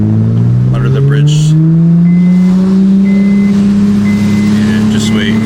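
A 2008 Honda Accord V6 fitted with a Weapon R cold air intake revs up in a tunnel, a loud, close engine drone rising steadily in pitch and echoing, with no one speaking over it.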